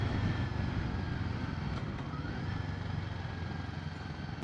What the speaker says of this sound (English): I think it's appropriately named the Sherpa engine.